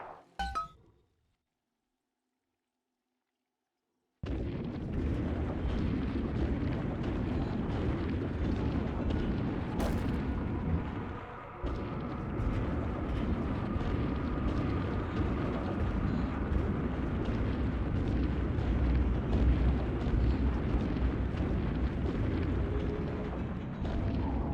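Booming, rumbling blasts of bombs in a video game, a brief sharp burst at the start, a silent gap, then a long sustained roar of explosions and debris with a sharp crack near the middle.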